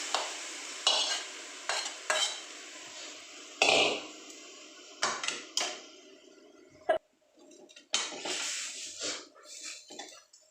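Boiled green gram curry is stirred in a pot, with a series of close scraping and clattering strokes of a spoon against metal, separated by brief quiet pauses.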